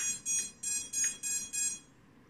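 Beeper on an iFlight Nazgul5 5-inch FPV racing drone, triggered by a switch, sounds five short, loud, evenly spaced electronic beeps in a steady rhythm, then falls quiet.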